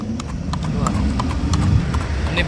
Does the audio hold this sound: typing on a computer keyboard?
no